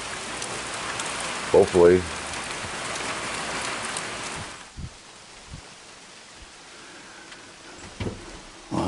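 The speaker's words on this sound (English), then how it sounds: "it has rained since 10 o'clock last night" Steady rain falls at a deer hunting camp in Wisconsin, a soft even patter that eases partway through, with a few brief spoken words and scattered knocks.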